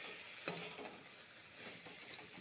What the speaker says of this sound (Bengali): মশলাটা ভালো করে ভাজা হয়ে গেছে